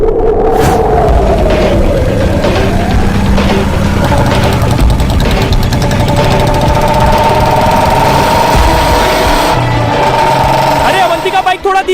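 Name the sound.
motorbike engine running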